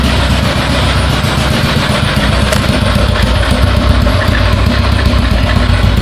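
A Honda Biz motorcycle engine fitted into a Dafra Zig 50 idles steadily up close, a loud continuous mechanical rumble with no speech over it.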